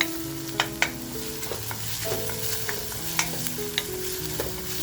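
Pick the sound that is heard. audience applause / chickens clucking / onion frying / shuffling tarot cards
onion frying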